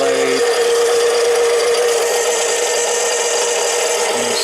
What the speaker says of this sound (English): This is the 7x10 mini lathe.